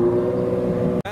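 A Ferrari F12 supercar engine with aftermarket pipes drones loudly and steadily as the car leaves a car show, then cuts off abruptly near the end before a brief resumption.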